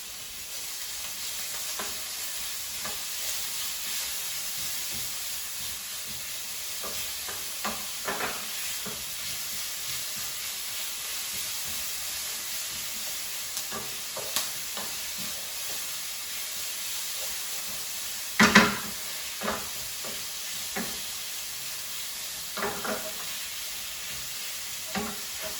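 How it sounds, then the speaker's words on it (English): Garlic, onions and herbs sautéing in oil: a constant hissing sizzle with intermittent spoon scrapes and clacks against the pan, one louder knock near the end, close and without talk. "I'm going to mix that, and I'm going to allow the garlic to infuse with the onions and the herbs"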